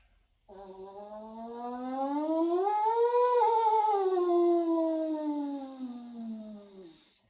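A single long tone on a horn mouthpiece slides slowly up and back down, imitating an ambulance or fire truck siren, loud and close for about seven seconds.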